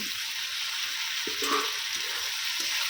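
Fried potatoes cooking with tomato paste and spices in a pan for a magur fish curry, a steady bright sizzle with a few soft stirring clinks, close and even throughout, no talking.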